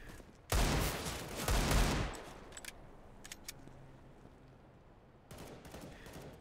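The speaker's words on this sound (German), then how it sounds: "Er schießt so komisch mit der Deagle tatsächlich" Desert Eagle pistol fire in Counter-Strike: Global Offensive, two heavy close shots with sharp reports and ringing tails about a second apart, followed by faint distant shots and a final burst near the end.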